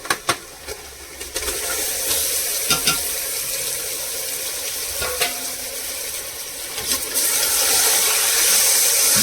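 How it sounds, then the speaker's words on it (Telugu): Chicken pieces hit a hot pan and burst into loud, continuous frying, with a few clattering knocks early on before the hiss swells and grows brighter near the end. "ఇప్పుడు నేను వేసేస్తున్నానండి చికెన్ అంతా."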